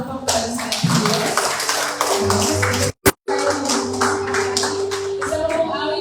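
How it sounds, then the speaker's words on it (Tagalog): Church congregation clapping loudly and rhythmically, a dense close burst of many hands with a brief break partway through, voices mixed in. "isa pang malakas na palakpak para sa ating Diyos"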